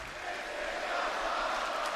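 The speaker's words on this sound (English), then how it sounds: "Listen to this crowd." Crowd in a WWE SmackDown wrestling arena as a sustained, rising roar of cheering voices, dense and fairly distant, with no clear speech standing out.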